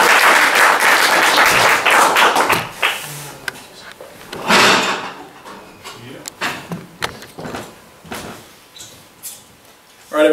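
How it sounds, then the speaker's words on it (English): An audience gives a welcome round of applause, a dense burst of clapping at the start that thins into scattered claps and knocks as it dies away. "Let's have a big round of applause for Dwight"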